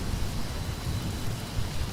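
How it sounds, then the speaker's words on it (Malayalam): Heavy, steady rain pours down in a constant broadband wash, with a low rumble of thunder rolling underneath throughout, loud and continuous with no pauses. "എന്തോരു മഴയാ, ഇന്ന് തോർന്നിട്ടേയില്ല."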